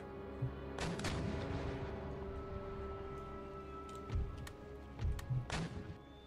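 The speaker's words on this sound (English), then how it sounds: "I'm happy to take some friendly fire from my own um, artillery, shooting my man in the back." Artillery fires on a battlefield in Empire Total War, with distant booming shots at scattered moments over a steady low background, a couple of them sharper and closer.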